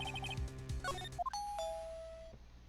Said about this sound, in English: I know that this in-game doorbell just rang